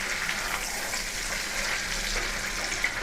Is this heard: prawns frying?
yes